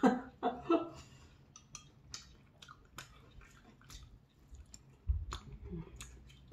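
Soft wet chewing and biting of mille-feuille nabe hot pot, close up, with a few louder bites and faint chuckles scattered through the eating.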